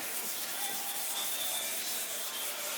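An oxidized, yellowed car headlight lens is sanded by hand with sandpaper. A continuous close, hissing rub runs evenly throughout, with no speech.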